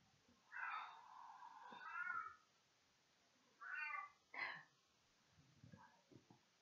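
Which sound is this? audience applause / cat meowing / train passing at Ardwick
cat meowing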